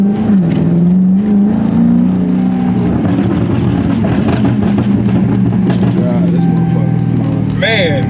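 Chrysler 300 with a stage 1 burble tune, its exhaust rumbling loud and close with a low steady drone, rising slightly in pitch, then crackling near the end while people talk over it.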